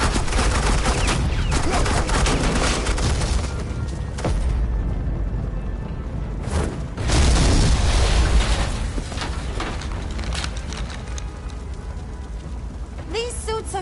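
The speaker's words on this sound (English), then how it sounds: "I said suppressing fire!" Dense bursts of automatic gunfire and booming explosions rattle through a Batman video game firefight, loud and continuous with sharp peaks, while voices speak over the shooting.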